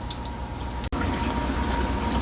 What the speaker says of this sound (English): First few seconds of putting water in it.